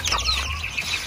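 Farm chickens cluck softly in short, scattered calls at moderate distance, a brief burst of fowl chatter with no talk.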